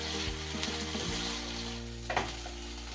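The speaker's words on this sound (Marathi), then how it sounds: "चांगली गवारी तेलामध्ये छान अशी भाजून घ्यायची." Guar cluster beans fry in hot oil in a pan, a soft steady sizzle with a few light stirring knocks, close and quiet, with no talking.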